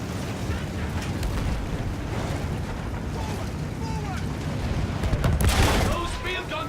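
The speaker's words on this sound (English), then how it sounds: "Those field guns are shredding their outfit!" Field guns firing in a World War I battle in Battlefield 1, heavy booming bursts over a dense background of battlefield noise and gunfire, with a loud cluster of blasts near the end and shouted voices mixed in.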